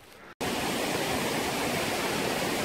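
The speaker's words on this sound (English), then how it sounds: "Mum's pointing up to a waterfall" Waterfall in the Enipeas Gorge on Mount Olympus, a dense, steady roar of rushing water that swells in abruptly after a brief dropout and holds loud and close.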